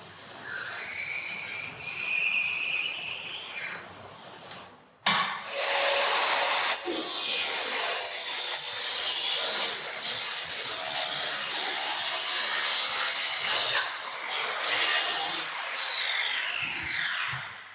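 A combined profiling and angle cross-cutting machine cuts a timber rafter, a loud sustained high whine of the blade running for several seconds after a brief lower startup tone, then dropping away as the cut ends.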